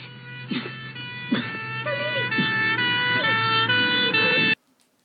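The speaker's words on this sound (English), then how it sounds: "The adventure ends and Kevin's house is on fire. We hear sirens." A wailing siren rises and falls continuously, fairly loud, over a low rumble, then cuts off abruptly near the end, in a film scene of a house on fire.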